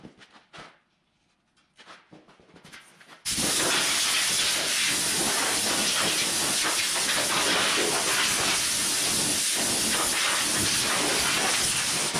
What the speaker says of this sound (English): give her the old air hose, blow everything out real good